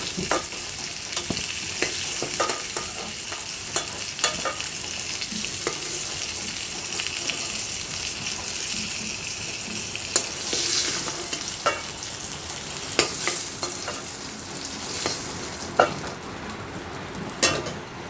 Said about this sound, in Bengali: পটলগুলো মোটামুটি আমার হালকা হালকা ভাজা হয়ে গেছে